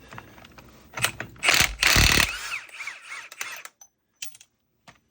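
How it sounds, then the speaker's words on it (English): Ratchet wrench loosening a 35 mm axle nut on a Ford Bronco Badlands during a differential tube and CV axle job, with close, loud bursts of rapid metallic clicking and a few short scattered clicks afterward. "I'm just gonna take this big old nut off with this 35 mil axle nut"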